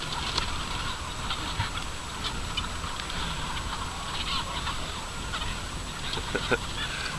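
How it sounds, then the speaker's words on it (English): A flock of chickens clucks and squabbles excitedly as food is tipped out for them, a busy, constant chatter with scattered sharper calls and faint knocks over a dense background hum. "These chickens are not starved, they eat a lot, but they absolutely go crazy for this."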